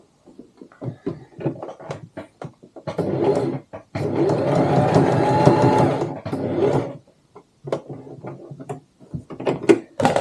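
A sewing machine stitches along the top of a tote bag's front pocket in one steady run of a few seconds. Softer stop-start clicks and handling of the fabric come before and after the run.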